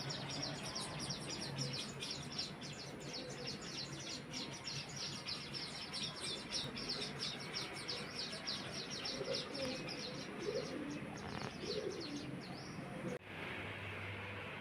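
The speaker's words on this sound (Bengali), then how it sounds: "পাখির বাচ্চাগুলো কিছু কিছু কিছু কিছু করছে" Baby birds chirp in a busy, steady stream of high-pitched calls across the whole clip, mixed with cooing and household background noise.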